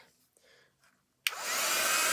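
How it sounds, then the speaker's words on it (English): A heat tool for embossing powder switches on abruptly after a near-silent pause and then blows steadily, a loud, close whooshing hiss that holds for the rest of the moment with no talking. "Now, I'm going to put my heat tool on, so please do excuse the noise."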